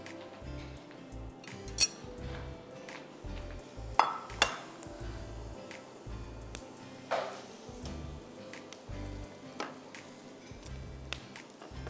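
A spoon scrapes and clinks against a dish while carrot halwa is served after frying, with repeated soft dull scoops and occasional sharper metallic taps in a quiet kitchen.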